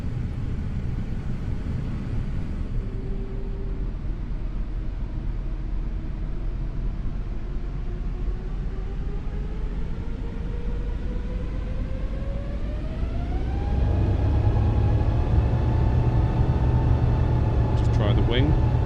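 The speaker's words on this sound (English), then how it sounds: "that will give us a little bit more time to listen to the engines on takeoff" Airbus A350 jet engines in Microsoft Flight Simulator 2020 rise from a steady whine to a louder roar as the takeoff roll begins, with rising tonal sweeps and a deep rumble. A voice speaks over it.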